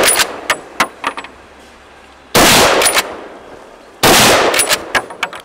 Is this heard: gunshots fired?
yes